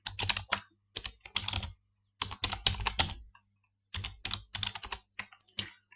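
Keys clatter on a computer keyboard while a Docker command is typed at a desk, in quick bursts of clicks separated by short pauses, close and clear with no talking.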